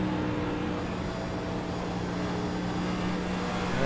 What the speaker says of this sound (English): You can listen to the sound of the engines as he lets off the gas on those turns.